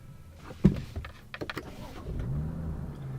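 A BMW F30 335i engine starts after a few clicks and a sharp thump, then settles into a steady, close, low idle rumble.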